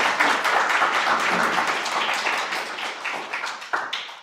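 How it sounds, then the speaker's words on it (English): An audience at a Lille demo day claps in a steady burst of applause that fades slightly toward the end, with no voices over it. "je demande des applaudissements pour vous donner plein de confiance"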